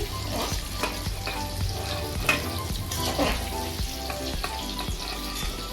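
Black cumin, chopped tomato and ground spice paste hit hot tempering oil for a bitter gourd and hilsa curry, a dense crackling sizzle with repeated spoon clinks and stirring knocks, close and without voices.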